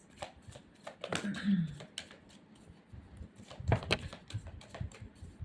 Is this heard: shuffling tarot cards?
yes